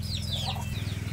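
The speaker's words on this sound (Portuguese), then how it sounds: "E aqui tem uma dona galinha, mais seus pintinhos." A hen clucks softly with her chicks, some high peeping calls over a low, steady stream of clucks, close by.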